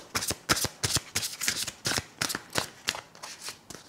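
A deck of oracle cards is shuffled by hand in quick, crisp riffling bursts, about a dozen close, rhythmic flutters with no talking.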